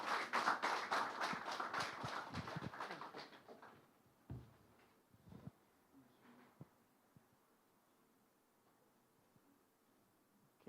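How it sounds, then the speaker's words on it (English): Audience at an ICT professionals' anniversary event in Ghana applauds a guest speaker, a brief spell of clapping that fades after a few seconds into a quiet room with scattered knocks. "Please, with a hand of applause."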